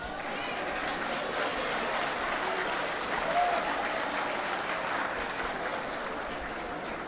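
An audience of mothers claps in a steady, sustained round of applause throughout, a dense wash of many hands at a national event in Dominica.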